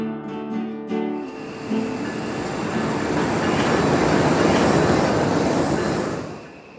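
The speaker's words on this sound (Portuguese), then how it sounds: "O maior trem do mundo, puxado por 5 locomotivas a óleo diesel, engatadas, geminadas" A huge freight train hauled by five coupled diesel locomotives rolls past. A few tonal notes at the start give way to a loud, steady rolling roar that swells and then eases off at the end.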